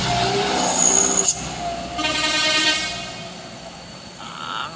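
A Colt Diesel truck labors up a steep climb, its engine straining loud and close in a continuous heavy roar with shifting tonal whines, no talking over it.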